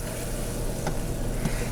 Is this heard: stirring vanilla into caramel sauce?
yes